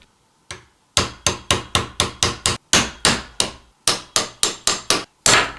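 Repeated hammer blows strike a vintage Graflex camera flash tube being modified for a lightsaber hilt, about a dozen sharp metallic-wood knocks in a steady rhythm with brief pauses, close and loud with no talking.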